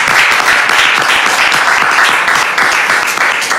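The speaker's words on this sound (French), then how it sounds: "Je veux qu'on l'applaudisse quand même assez fort pour son courage." Brisk, loud studio audience applause, a dense steady wash of many hands clapping without pause.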